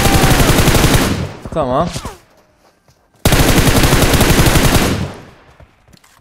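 Automatic gunfire in the mobile battle royale game PUBG Mobile, loud dense bursts of rapid shots in two long volleys separated by a short pause, with brief in-game sounds between and a short spoken word.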